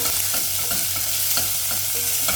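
Garlic and onion sautéing in olive oil, a close sizzle broken by rhythmic stirring scrapes roughly every half second.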